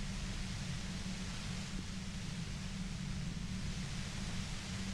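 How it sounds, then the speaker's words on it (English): A dense, steady hiss of white noise beside a humming compressor in Disco Elysium, loud and unbroken, with a low droning hum beneath it and no voices. "The violent white noise becomes even more overwhelming closer to the compressor"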